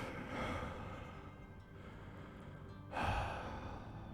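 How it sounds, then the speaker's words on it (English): Quiet, close breathing as a sound effect: a slow exhale followed by a sharper intake of breath, soft and alone against a low background. "Breathing."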